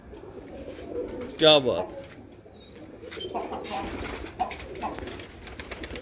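Pigeons on a rooftop in Kasur give a brief throaty coo amid outdoor ambience, close by, while someone talks over and around it.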